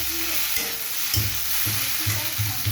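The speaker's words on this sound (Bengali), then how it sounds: "কি সুন্দর ভাজা ভাজা হয়ে গেছে, কিন্তু একটু লাল লাল করে ভাজতে হবে" Soybean chunks fry in hot oil in a pan, giving a constant close sizzle with rhythmic low scraping and stirring strokes near the end.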